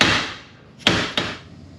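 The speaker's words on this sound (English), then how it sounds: "I'm just going to use my dead blow hammer and then nice and easy hit it one side, take it on the other side" A dead blow hammer strikes twice on a trailer wheel bearing, two sharp, close knocks about a third of a second apart, following a fading rush of noise.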